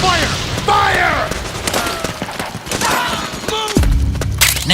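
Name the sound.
gunfire in Metal Gear Solid 4 video game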